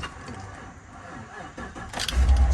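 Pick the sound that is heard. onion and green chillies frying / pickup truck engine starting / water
pickup truck engine starting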